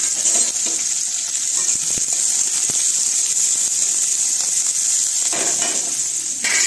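Onions and green chillies frying in a pan with curry leaves, a steady close sizzle and hiss throughout with a few faint clicks of stirring, no talk.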